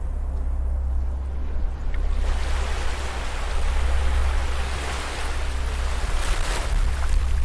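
Gentle ocean waves wash onto a beach in a steady, continuous broadband roar that swells slightly after the first couple of seconds, with no voices present.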